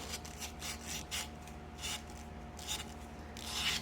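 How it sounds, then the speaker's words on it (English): 600 grit sandpaper rubbed along an edge while a Singer 66 sewing machine is being assembled, a close, soft rasping in repeated back-and-forth strokes over a low steady hum, with no voices. "I am going to rub down the edge here just to make sure that that is perfectly smooth. Just a little 600 grit sandpaper."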